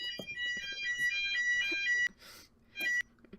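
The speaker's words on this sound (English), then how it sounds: "Oh, it's the fire alarm." A fire alarm sounds in a series of rapid, shrill electronic beeps with harmonic overtones, fairly loud and close. It cuts off briefly, then one more short beeping burst follows, with no speech over it.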